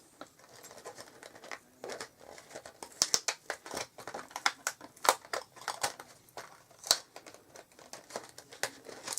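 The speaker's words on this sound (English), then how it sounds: "I know you can hear all the rustling" Close, busy rustling and crinkling of paper while a Stampin' Up cube card is made, with sharp irregular crackles and soft shuffling throughout.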